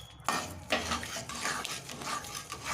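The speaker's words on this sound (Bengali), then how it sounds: "এখন এটা সবসময় নাড়তে হবে।" Carrot halwa with cardamom being stirred in a pan, a spoon scraping and clinking against the metal in steady strokes, with a soft sizzle beneath, close and fairly quiet.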